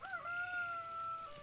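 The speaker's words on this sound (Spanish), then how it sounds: "Ahí está mi gallina." A chicken in the Force of Nature video game gives one clear, drawn-out, high call lasting over a second, with little else around it.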